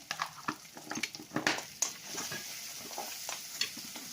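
Cumin and coriander powder fry in a pan, a soft, close sizzle broken by light, irregular stirring scrapes and taps throughout the short stretch, with no talking.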